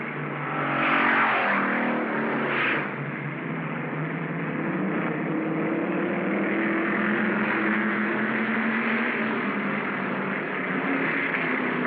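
Race cars roar steadily around a track as Randall and Conroy run nose to tail, a continuous loud engine drone with a brief rising surge near the start.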